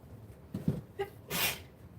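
A single sneeze during a live collectibles auction, quick and close, with a short breathy intake followed by a sharp burst over faint room noise.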